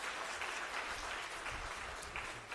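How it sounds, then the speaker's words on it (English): Continuous applause from a conference audience at a youth biodiversity conference's valedictory ceremony, steady and moderately loud from start to finish, with a low background rumble beneath. "So big round of applause to yourself first"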